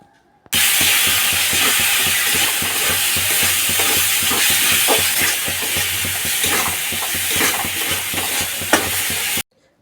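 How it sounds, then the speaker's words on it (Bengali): Spices and tomato fry and get stirred in oil in a pan while cooking jackfruit with prawns, a steady loud sizzle with scraping stir strokes throughout, no voices. "মশলা একটু ভেজে নিয়ে টমেটোটা দিয়ে দেবো।"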